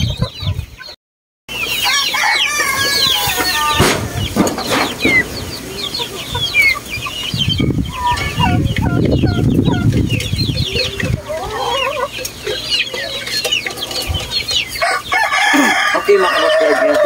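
A backyard flock of pet chickens clucks busily and continuously close by, with a rooster crowing amid the chatter and occasional wing flaps.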